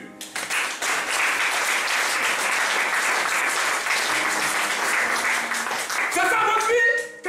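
Church congregation applauding loudly in acclaim of Jesus, a continuous wall of clapping and cheering for several seconds before a voice and musical tones break in near the end.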